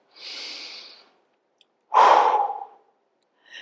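Slow deep breathing during a floor yoga pose: a soft hissing breath, a pause, then a stronger, louder exhale, close and alone with no talk.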